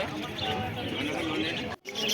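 Small caged finches and other birds chirp and call across a busy bird market at Garia, a constant bright chatter with voices and crowd noise underneath.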